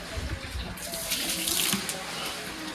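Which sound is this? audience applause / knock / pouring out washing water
pouring out washing water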